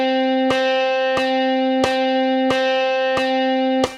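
Guitar struck in quarter notes in 3/4 time at 90 BPM, six evenly spaced sustained strums with a steady ringing, slightly distorted tone, loud and close with nothing else playing.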